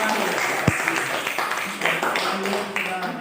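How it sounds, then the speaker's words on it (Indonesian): A classroom group claps for a presenting group during a teaching practice session, a short burst of applause running under a teacher's voice speaking over it. "tepuk tangan dulu untuk kelompok"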